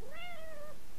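A single clear cat meow from the video game Little Inferno, a rising then falling drawn-out cry lasting most of a second over a soft steady background, with no talking.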